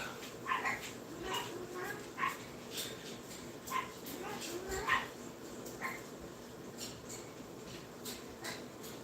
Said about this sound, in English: Barking at nothing.